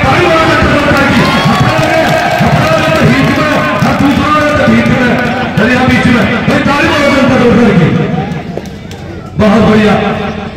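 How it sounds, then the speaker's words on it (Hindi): Crowd at a village kushti wrestling bout cheering, shouting and clapping in a loud, continuous roar, with an announcer's voice over the din and a brief dip near the end. "ताली मारो जनता जोर कर की"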